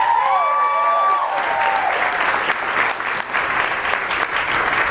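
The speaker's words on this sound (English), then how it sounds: "Come on, give them a big applause." Wedding guests applaud warmly for the bride and groom at their celebration, a dense, steady wash of clapping filling the room for several seconds after a brief tonal flourish at the start.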